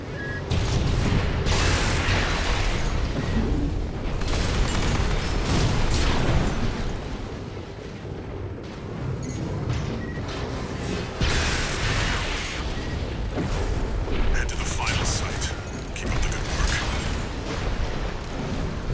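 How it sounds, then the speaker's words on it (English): Gunfire and heavy impacts in an Armored Core 6 mech battle, with dense bursts of shots and explosions running loud and continuous under a voice speaking. "who's shooting at me?"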